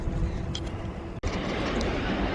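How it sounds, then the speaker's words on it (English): A freight train passes on the West Coast main line in North London, a steady broadband rumble of rolling wagons heard nearby, with a brief dropout midway before the rumble continues. "here you just catch the end of that freight train"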